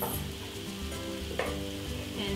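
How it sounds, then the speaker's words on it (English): Shallots hitting a hot pan set up a continuous close sizzle and crackle, with brief stirring scrapes over the frying. "So now we're going to add the shallots"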